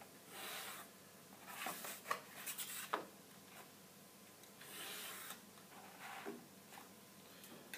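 A pencil is drawn across mat board on a Mat Master 860/1060B mat cutter to mark guide lines, giving several faint, scratchy strokes in short bursts with quiet pauses between them.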